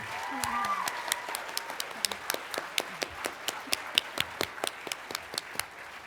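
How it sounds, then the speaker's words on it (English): Hands clap in a steady, fairly sparse rhythm, like a small group applauding, with a faint voice murmuring underneath. "So a big round of applause for those who are full of shift."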